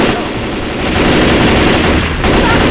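Sustained automatic gunfire in Left 4 Dead 2, loud and dense rapid bursts with barely a pause, dominating the scene with no voices.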